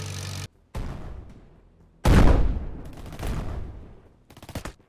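Gunfire and explosions from the strategy game Commanding Nations, sharp loud bursts and a heavy booming blast with rattling tails, followed by a quick stutter of shots at the end.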